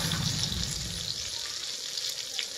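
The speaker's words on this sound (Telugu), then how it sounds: "కరివేపాకు అయితే వేసుకుంటున్నానండి" Curry leaves crackle and sizzle sharply in hot oil for sambar, a loud, dense continuous spatter that is strongest at the start and eases slightly toward the end, with no voices.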